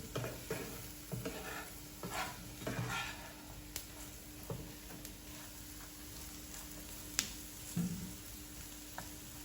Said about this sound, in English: Let it get fried completely.